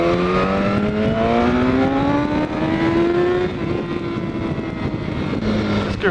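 BMW S1000RR sport motorcycle accelerating hard, its engine note climbing steadily in pitch through the gear before levelling off, loud and close with wind noise, no voices.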